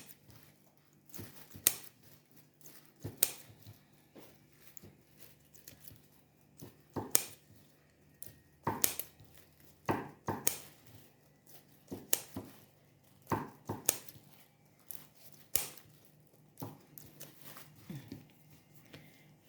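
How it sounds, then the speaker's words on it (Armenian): Scissors snip through pieces of meat in a kitchen, giving sharp, irregular clicks and crunchy cuts, close and distinct against a quiet background. "մասա պետք է կտրտեմ, այսպես մկրոտով, այսպես կտրտենք"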